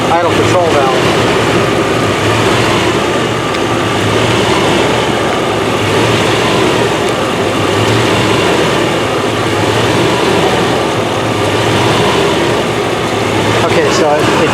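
A 1993 Chevy Blazer 4x4 engine idles close by with a steady drone that slowly rises and falls in a cycling rhythm for the whole stretch.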